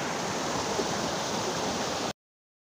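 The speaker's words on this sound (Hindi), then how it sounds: "पानी गिर रहा" Water falls among mountains in a steady, broadband rushing roar, continuous and evenly loud from a moderate distance, then cutting off abruptly; no voices are heard.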